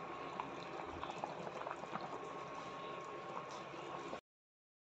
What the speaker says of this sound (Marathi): किती छान भाजी उकळत आहे बघा आता